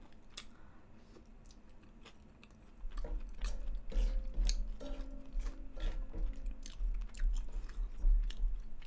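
Garlic from a gambas dish is chewed close up, starting quietly and then turning into steady, wet crunching bites with soft clicks over the last six seconds, with no talking.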